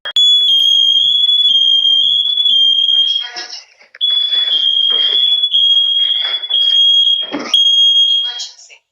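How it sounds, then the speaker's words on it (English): A Nest smoke alarm in a master bedroom emits a loud, steady high-pitched tone, broken by a synthetic voice announcing smoke and emergency, with the alarm tone cutting briefly around the middle before resuming. "Smoke alarm hushed in the master bedroom."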